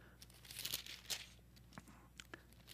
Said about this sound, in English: Oh, my page turned.